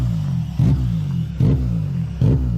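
Honda del Sol with an F2D engine revving in three repeated bursts about a second apart over a steady, low, rumbling exhaust note, heard from close by with no talk.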